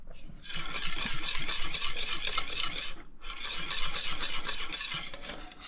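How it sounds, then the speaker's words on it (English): A spoon stirs plantain porridge flavored with white vanilla in a pot, making a steady, close scraping and rubbing sound that runs continuously, pauses briefly, then resumes with the same texture. "you have to stir for a few minutes more"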